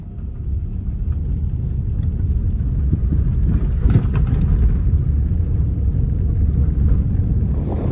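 A car approaches on a single rural road, its low engine rumble and tyre noise swelling steadily louder and nearer over several seconds, with no talking.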